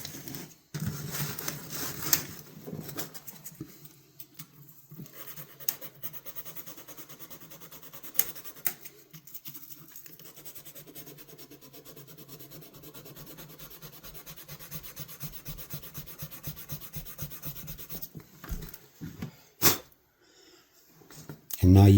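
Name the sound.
rubbing rust off an old knife blade with folded abrasive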